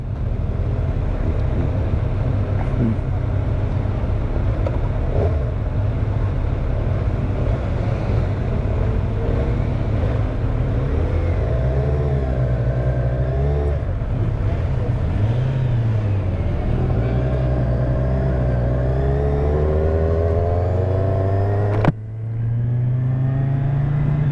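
A Kawasaki Z1000R motorcycle engine runs close and loud with a steady rumbling idle, then rises and falls through several revs under constant wind noise.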